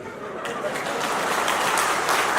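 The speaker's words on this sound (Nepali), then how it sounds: "यो ताली मैले तपाईँलाई रिक्वेस्ट गरेर मागे होइन" Crowd applause at a Nepali political rally, a dense, steady wash of clapping from a large audience that builds slightly and carries on throughout, with a loud voice partly over it.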